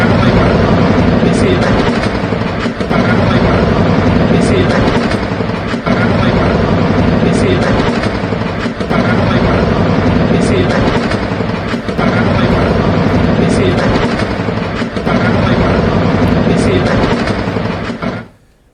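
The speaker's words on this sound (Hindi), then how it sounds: "अमेरिका ने इसके लिए अपाचे सहित कई खतरनाक हेलीकॉप्टर्स का उपयोग किया" Military helicopters, including an Apache, during a night attack in Venezuela: a loud, continuous rotor drone with regular thudding blade pulses, close and dominant throughout before cutting off at the end.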